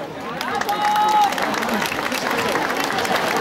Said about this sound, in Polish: Gromkie brawa dla nich!